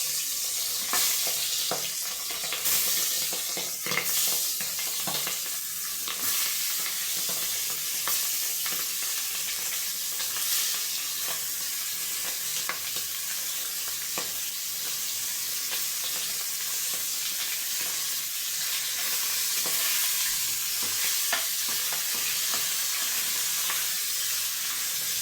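Fish pieces and a fish head fry in a hot wok with a loud, steady sizzle and crackle, broken by occasional stirring and utensil clinks, and no talk.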